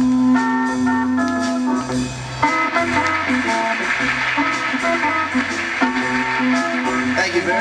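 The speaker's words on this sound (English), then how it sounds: "the fellow who pushes the big Hammond." Big Hammond organ in a 1960s rock band, sustained chords with a bright swelling tone over a steady bass and drum groove, loud and continuous for several seconds.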